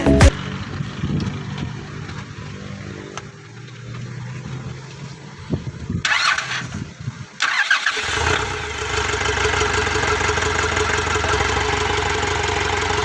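Nissan NV350 van engine cranking and catching, then settling into a steady broadband idle that runs on loudly to the end after an earlier stretch of muffled rumble and handling noise.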